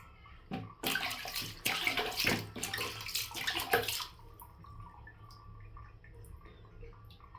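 Water from a tap splashes and runs over a bleeding wound for a few seconds, a loud gushing burst that cuts off and leaves faint trickling and room noise, with no talking.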